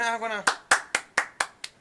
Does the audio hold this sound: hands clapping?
yes